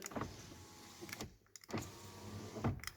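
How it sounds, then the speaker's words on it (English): Car power windows whir up and down during a vehicle health check, with the electric motor running in several short strokes, close and fairly quiet, each ending with a soft stop. "Make sure the windows are going up and down."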